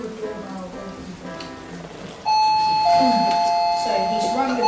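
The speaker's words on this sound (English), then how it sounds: "he's rung the doorbell instead of mentioning the code" A doorbell rings on a school Raspberry Pi door project, with a sustained electronic ding tone entering midway and holding steady while someone talks.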